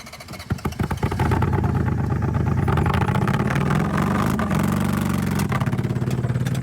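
A minivan engine running loud after a botched home oil change, starting with a few sharp clattering bursts, then settling into a steady, close, heavy mechanical rumble with a rapid rattling pulse throughout.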